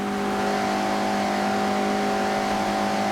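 A Mazda MX-5 racing in Forza Horizon: a loud, steady engine drone held at high revs for a few seconds, with strong sustained tonal hum and no speech.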